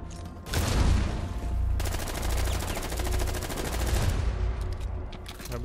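Rapid automatic gunfire bursts in the Rainbow Six Siege video game, dense sustained rattling volleys over a low rumble, loud and continuous, with faint player voices beneath.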